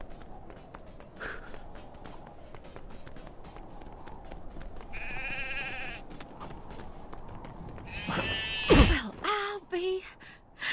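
A few sheep bleat near the end over rustling, footstep-like game sounds in LEGO Marvel Super Heroes 2's Old West level, with a voice heard briefly.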